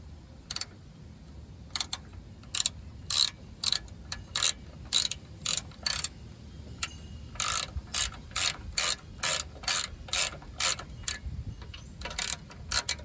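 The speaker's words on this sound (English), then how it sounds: "I'm just going to put them in the rest of the way with the ratchet" Close, crisp ratchet clicks come in quick rapid bursts, repeated steadily with short pauses, as a hand ratchet tightens shock absorber nuts on a Ford Ranger front suspension, with no talking.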